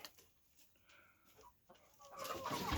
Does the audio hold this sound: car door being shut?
no